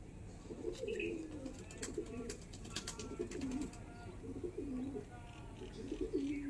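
Kasuri Kalsira pigeons coo in a steady, repeated low rolling rhythm from close by, with bright chirps and wing-flutter clatter over constant background noise.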